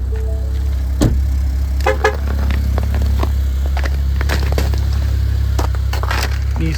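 A Ford Bronco Sport idles after a cold start in freezing weather, a steady low engine rumble with scattered clicks and crackles, close and with no talk.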